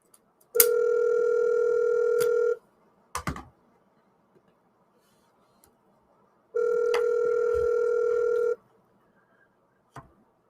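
Ringback tone on an outgoing telephone call: two steady electronic ring bursts about two seconds long, separated by a pause, with faint clicks between them.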